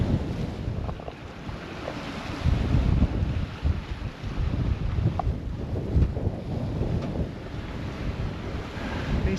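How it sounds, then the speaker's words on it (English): A 22-knot wind blowing over a rolly, disorganized sea aboard a Hallberg Rassy 44 sailboat under sail, with steady wind rush buffeting the microphone and heavy swells of water washing and surging close by, and no voices. "Basically what we have is 22 knot winds just off the quarters, just a very disorganized and rolly sea"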